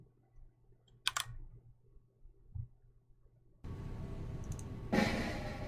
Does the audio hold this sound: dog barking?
no